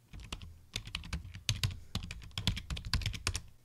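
Someone types steadily on a computer keyboard, setting up an Ubuntu Linux home file server. The keystrokes are close and crisp and come in irregular bursts of clicks, alone with no voices.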